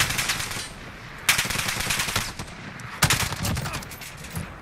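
STG77 automatic rifle fire in the video game Call of Duty Modern Warfare, with dense, sustained bursts of rapid shots and sharp onsets where new bursts begin, loud and close with no talking.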